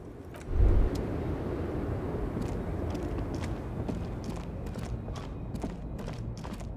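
The idling engine of a Stars Ryko, a Zhimsk-made motor carriage, rumbles low and steady in Disco Elysium, opening with a brief thump and carrying faint clicks and footsteps over the drone.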